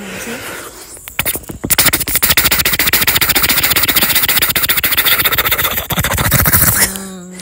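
A human voice imitates a helicopter, holding a loud, close, rapidly pulsing buzz like rotor chop for about six seconds without a break. The sound ends in a short hum.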